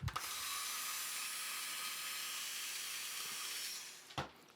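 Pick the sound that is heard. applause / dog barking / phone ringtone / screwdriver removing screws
screwdriver removing screws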